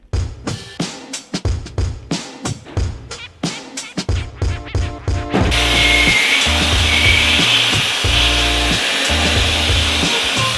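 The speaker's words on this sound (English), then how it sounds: "Now it is up to the walnut blast to make this thing brand new looking." Walnut media blasting of an engine block after a degreaser and gasoline soak: a series of short hissing bursts from the blast gun, then a steady, loud continuous roar of the blaster that runs close up to the end.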